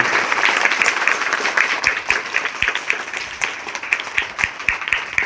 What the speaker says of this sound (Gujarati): આપણે એકવાર જોરદાર તાળીઓના ગણગણાટ